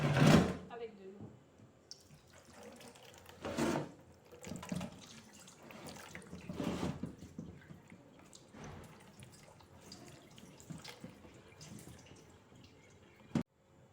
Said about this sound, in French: je tiens à laver d'abord ma pierre écrasée